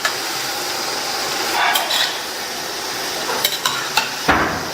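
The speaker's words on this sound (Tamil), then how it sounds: "1 நிமிஷம் கழிச்சு இந்த மாதிரி பிரட்டி பிரட்டி விட்டுக்கலாம்." Food frying in a pan on a medium flame while being stirred and tossed, a steady sizzle broken by several clinks and scrapes of a utensil against the pan, ending with a louder toss.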